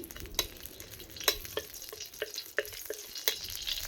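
Ghee heating in a kadai for paneer kofta gives a quiet, steady sizzle with soft crackles and several sharp clicks of stirring against the pan, with no voices.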